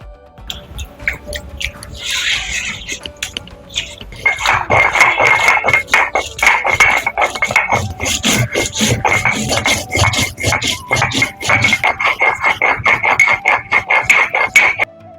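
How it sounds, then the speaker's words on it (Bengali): Cumin and green chilli are ground into a paste on a stone, with steady rhythmic scraping and grinding strokes, loud and close, that start after a few quiet seconds and continue without pause. "সেই জন্য এই জিরে কাঁচা লঙ্কাটা বেটে দেবো"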